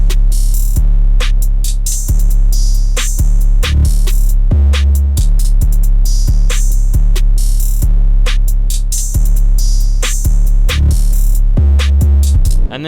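A Southern Texas-style hip-hop drum beat made in FL Studio, with a booming distorted 808 bass under crisp snares and hi-hats, played as a loud, continuous pattern with a short roll at the end.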